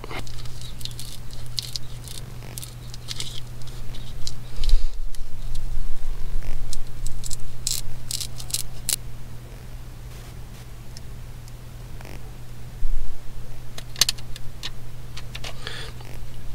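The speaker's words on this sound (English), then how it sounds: "So we need to cut this out." Scissors or a blade cutting out a piece for a low-cost dashboard GPS mount, a steady close scratchy patter of snipping and rustling, loud and continuous with no talk.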